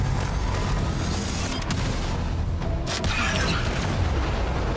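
Missile impacts and booms against ship shields during a Warframe Railjack space battle, loud rumbling blasts over a constant roaring engine-like din.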